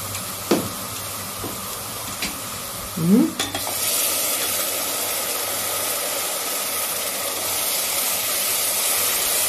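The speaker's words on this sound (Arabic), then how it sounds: "كده بقى نسيبها تتسبك بقى مع بعضها كده." Tomatoes added to garlic and spices frying in a pot give a loud, steady sizzle that swells after a few stirs and knocks, then holds constant to the end.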